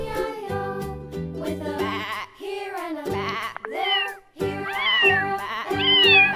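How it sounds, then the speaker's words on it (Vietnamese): A cat meows repeatedly, several clear tonal calls in a row with rising and falling pitch, close and loud. "Con mèo."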